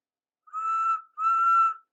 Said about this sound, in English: Thomas, Percy, Toby and Daisy came to the junction to see Wilbert off, and whistled cheerfully as he passed.